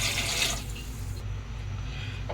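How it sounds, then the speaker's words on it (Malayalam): Three cups of water splash and pour steadily into a cooking pot, the rushing sound easing off partway through while a low hum continues underneath. "ആ വെള്ളം കറക്റ്റ് 3 കപ്പ് എടുത്തിട്ട് ഒഴിക്കുക ഇതിലേക്ക്."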